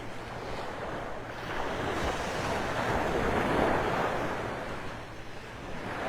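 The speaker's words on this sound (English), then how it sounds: "the tide's getting higher, coming up over the sandbar, so the waves are starting to pick up a little bit here" Ocean surf breaking on a sandy beach at Clam Pass Park as the tide rises over a sandbar on a foggy morning, a continuous wash of waves swelling and fading with some wind noise, no voices.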